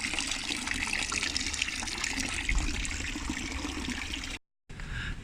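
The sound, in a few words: water running in a fountain in Basel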